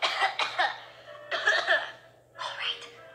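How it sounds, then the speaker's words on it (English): A cartoon character coughs in three clustered bursts of rough, throaty coughs separated by brief pauses, close and fairly soft, with a faint low hum underneath. "Yeah, I got this cough."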